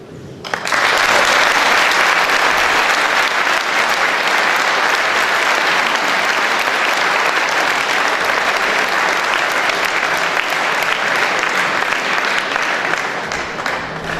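An audience applauding at a New Year's greetings ceremony in Callian, 2017: loud, dense, sustained clapping from many hands that starts abruptly and keeps going at an even level.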